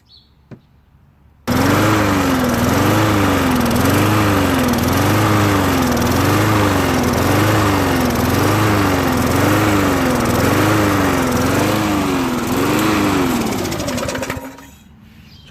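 Murray 20-inch push lawn mower with a Briggs & Stratton 4HP engine, carburetor not clean, starts abruptly and runs loud and close, its engine note surging up and down in a steady rhythmic hunt before cutting off.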